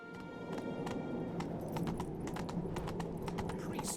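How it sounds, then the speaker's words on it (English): Horse galloping in The Witcher 3, a steady run of hoof clip-clops with occasional soft whinny-like tones over a constant background bed, moderately loud throughout. "Roach, thank you very much for working your magic and getting us to the Skellige Isles again."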